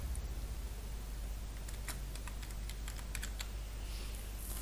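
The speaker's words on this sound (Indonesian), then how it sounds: "Di segmen name saya ketikkan tugas." Fingers type on a computer keyboard in quick, light clicking bursts, close and fairly quiet over a low steady hum, with no voices.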